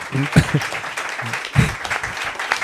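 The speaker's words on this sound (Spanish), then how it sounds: "os voy a pedir, por favor, simplemente que le deis un fortísimo aplauso a Salvador, a Mercedes" Applause from an audience at a Spanish book launch for a catechism for unbelievers, with some speech-like voices and a couple of louder bursts mixed into the clapping.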